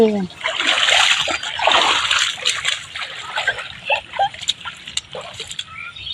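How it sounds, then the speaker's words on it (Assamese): Feet splash and slosh in cold river water while being washed after coming in from the fields, with repeated wet splatters close by under a child's and an adult's chatter. "নদীত নামি নদীত ভৰি দুখন আমি ধুই ল'লোঁ"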